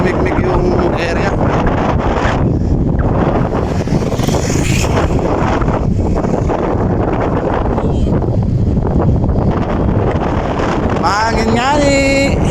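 Strong wind roars continuously across the microphone high on Mt. Samat in Bataan, a loud buffeting rush with a voice briefly audible through it.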